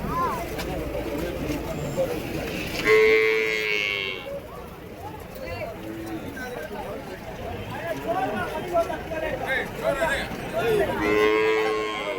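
Cattle mooing at a busy Vaniyambadi cattle market, several drawn-out lowing calls near and farther off, set against a constant crowd murmur with people talking throughout.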